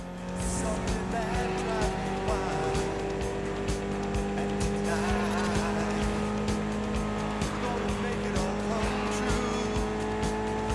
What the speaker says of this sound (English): Mitsubishi gave us a nice inline four-cylinder with already 280 horsepower